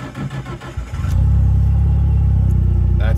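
A Nissan S15 engine, already hot, starts on the key with no throttle: a short burst of cranking catches into a loud, close, lumpy idle that keeps throbbing steadily.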